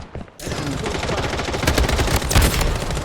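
Rapid automatic gunfire in the video game Blood Strike breaks in after a brief quiet moment, then continues as a loud, dense stream of shots with some voice underneath.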